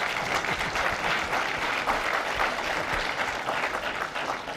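An audience at a historical society talk breaks into steady applause, a dense wash of many hands clapping together, sustained and even throughout.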